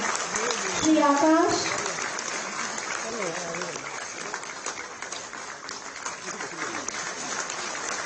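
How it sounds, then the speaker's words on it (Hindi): Loud, sustained applause from a crowd at a public government ceremony in Lucknow where beneficiaries receive housing and safety kits, continuous throughout with a voice speaking over it. "जोरदार तालियां, इनका मनोबल बढ़ेगा।"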